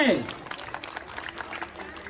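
Audience clapping at a school prize-giving, a brief scattered round of applause following a short spoken call, with talking over the claps.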